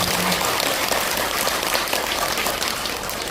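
Dense, steady applause from a large audience at a Buddhist temple dharma talk, filling the space evenly like heavy rain and holding at a constant loud level throughout.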